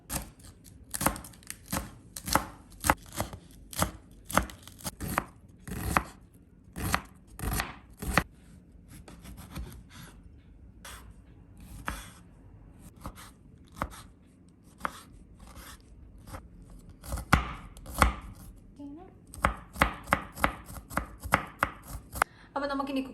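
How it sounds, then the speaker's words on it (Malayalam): Knife chopping half an onion, half a tomato, lettuce and a whole head of garlic finely on a board, a long run of quick close sharp cuts in uneven bursts with brief pauses, no talk. "ഞാൻ ചോപ്പ് ചെയ്തിട്ട് കാണിക്കാം."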